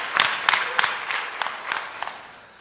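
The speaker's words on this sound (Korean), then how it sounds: "우리 어저께까지 박수 한번 보내드리겠습니다" A church congregation claps for a praise team at a revival meeting, a light scattering of hands in a series of soft bursts that thin out and fade toward the end.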